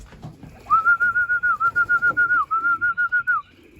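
Racing pigeons in a loft give a close, steady cooing call, a string of about fifteen evenly pulsed tonal notes with one short break, over faint background rustle.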